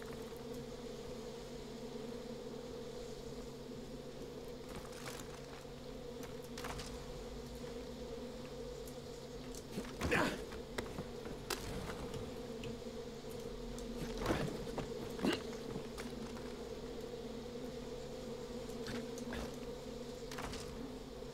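A steady drone of bees buzzing in the Far Cry 5 video game hums on without a break, with a few brief louder knocks and rustles cutting in near the middle.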